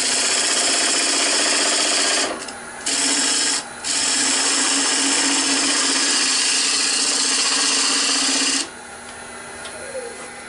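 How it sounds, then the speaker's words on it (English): Skew chisel cutting a dovetail into a bowl blank spinning on a wood lathe: a steady, loud scraping-hiss of the cut runs almost continuously, with two brief dips as the tool lifts, then a softer tail near the end. "I'm just going to use my skew here to make that dovetail."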